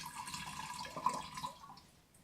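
About a quarter cup of water poured through a funnel into a pipe gives a soft, close trickle and a few light splashes that taper off toward the end, with no voices.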